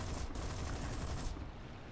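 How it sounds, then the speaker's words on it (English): Rapid aircraft cannon fire in the War Thunder video game, a dense, continuous burst of shots heard at a faint level with no talking. "And I waste quite a bit of cannon ammunition there."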